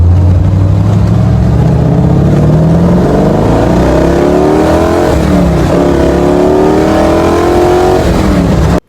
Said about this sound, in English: let's take it for a little test drive and see how she's doing